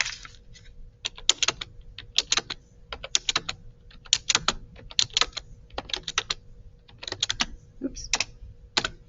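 Data is typed on a computer keyboard in irregular bursts of quick, crisp keystrokes with short pauses, close and fairly quiet, without talk.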